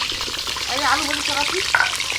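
Potatoes sizzle and crackle as they fry in a pan, making a steady hiss with stirring noises, while voices speak faintly over the cooking.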